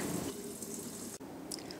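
Cold tap water runs and drips steadily over fresh anchovies being rinsed and scaled in a sink, a close, continuous splashing trickle with no talking.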